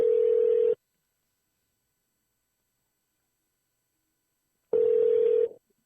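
A telephone ringback tone sounds twice during an outgoing call, a steady electronic ring with a long silent gap between the two rings.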